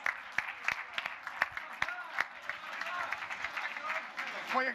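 Audience applause at a marketing conference in Portugal, a crowd clapping steadily with a few sharp louder claps standing out, close and moderately loud, with voices murmuring underneath.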